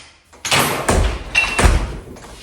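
A newly installed replacement front door swings shut with a few solid thumps and latch clunks during a home remodel, close and loud.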